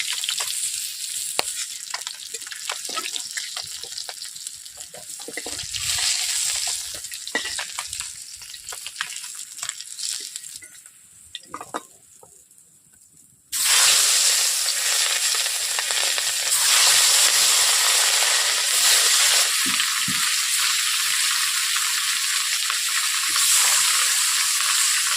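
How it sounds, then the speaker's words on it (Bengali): Fish fried in oil in a kadai for a fish curry, giving a steady broadband sizzle that runs throughout, briefly quieter near the middle and then loud and dense again with no talking. "বাকি মাছগুলো এইভাবে আমি একইভাবে ভেজে নেব।"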